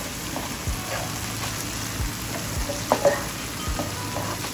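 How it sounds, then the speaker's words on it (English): Oil sizzles and crackles steadily as green beans fry, with occasional scraping stirs and small pops close by. "Beans are frying well into this oil."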